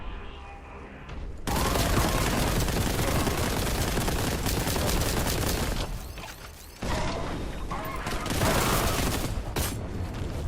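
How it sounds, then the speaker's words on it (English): Dense, loud gunfire and a grenade blast from enemies in the shooter Warhammer 40,000: Boltgun, sustained crackling bursts with a brief lull near the middle before the firing resumes. "They throw a grenade at me."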